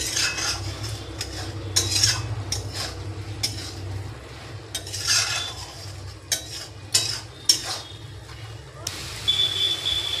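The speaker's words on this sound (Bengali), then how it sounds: "সব সবজিগুলো দিয়ে ভালো করে মিশিয়ে নেব।" A utensil stirs and mixes vegetables in a pan for a Bengali patia fish dish, with repeated scraping, clinking strokes over a low background hum at a steady, unhurried pace.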